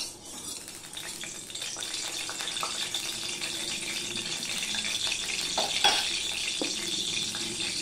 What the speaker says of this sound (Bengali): কড়াইটা ভালো মতন গরম হয়ে গেছে, ধোঁয়া উঠছে। এই সময় আমি দিয়ে দিচ্ছি সাদা তেল।